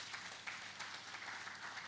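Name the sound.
audience applause at a conference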